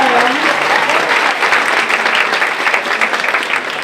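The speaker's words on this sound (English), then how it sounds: "Yeah, you can applaud, 26 films." A large audience applauds at a student film awards ceremony, a loud, dense and steady wash of clapping that holds for several seconds without a break.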